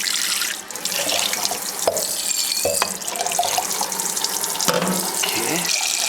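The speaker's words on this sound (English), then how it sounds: "Rinse out this bowl." Water from a tap runs steadily while a bowl that held fish water is rinsed out, with a continuous splashing rush broken by a few sharp knocks of the bowl against the sink.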